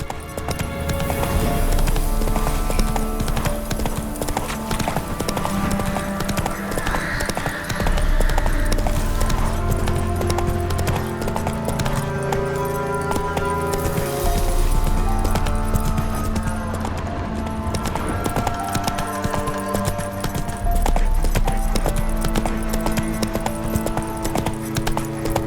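The horse Roach clip-clops along steadily in The Witcher 3, with hooves thudding in a close, even rhythm under game music and ambience. Brief speech occurs over the top.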